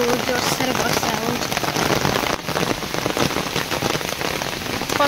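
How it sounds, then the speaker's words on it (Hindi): Heavy monsoon rain pouring down steadily in a flooding village, a dense loud hiss of drops on surfaces with no letup throughout. "बहुत जोरसोर वर्षा हो"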